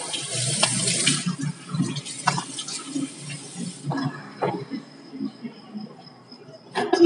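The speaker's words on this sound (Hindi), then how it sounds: "पानी डालो फेस पर, इतना अच्छा लगता है।" Tap water splashed onto the face while washing at home. A steady run of water comes first, then broken, uneven splashes and drips, with some faint background voices.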